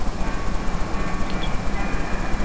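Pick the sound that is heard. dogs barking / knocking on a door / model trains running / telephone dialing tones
model trains running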